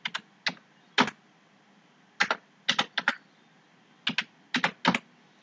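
Quick bursts of keystrokes on a computer keyboard as an NID number is entered into an online stipend data-entry form, clustered in short groups with brief pauses between them, close and clear over a quiet room.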